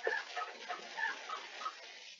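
A chicken clucks repeatedly in short, uneven bursts, fairly faint and thin, with no talk over it.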